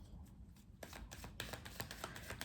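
Tarot cards being handled and a card laid over another, soft papery slides and light taps in a quick cluster, close and quiet, with no talking.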